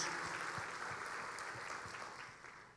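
Faint applause from a church congregation, a steady patter of clapping that slowly fades, heard from a distance.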